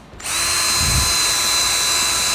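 Power sander working a scuffed car headlight with 1000 grit, a steady high-pitched whine starting abruptly after a brief pause and holding constant, close and loud, with no talking.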